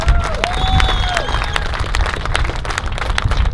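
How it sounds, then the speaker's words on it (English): Crowd clapping and cheering outdoors at a car show meet, a scattered burst of hand claps with some whistles and voices mixed in. "Clap your hands. Thank them."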